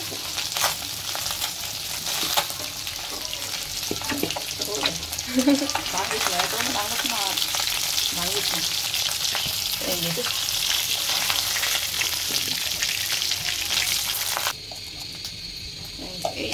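Tengra fish sizzles and crackles steadily in hot oil, with occasional stirring clinks, before the frying drops to a quieter hiss near the end.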